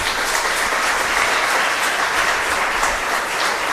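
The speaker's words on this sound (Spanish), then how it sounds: "Le damos un fuerte aplauso" A church congregation at a thanksgiving Mass for a priest's sixtieth birthday breaks into loud, sustained applause that fills the whole span evenly.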